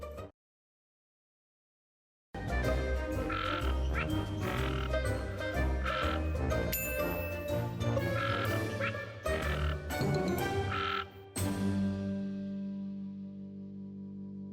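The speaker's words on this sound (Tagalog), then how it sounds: "Palaka ito." A frog croaks in a rapid, loud, processed-sounding sequence with echo-like smearing, starting abruptly after a short silence, breaking off briefly twice, then trailing away in a lingering tail.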